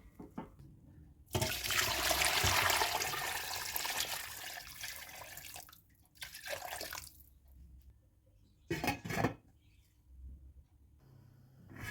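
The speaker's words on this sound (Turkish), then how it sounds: "Tertemiz yıkamış olduğum etleri büyükçe tenceremin içerisine alarak üzerini geçecek kadar su ilave ediyorum." Water pours steadily into a large cooking pot of goose meat for several seconds with a broad rushing splash, then stops; a couple of shorter bursts of running water follow, close by.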